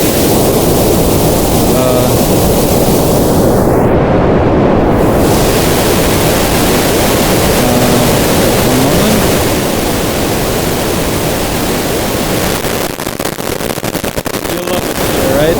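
Dense, steady synthesized pink noise through a bitcrusher, hissing loudly and unbroken throughout, with a brief dip in the highs and crackling near the end.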